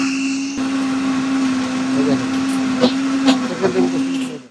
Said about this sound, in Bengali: একটা জুসার মেশিন নিয়ে আসছি, যেটা কমার্শিয়াল ইউজ করতে পারবেন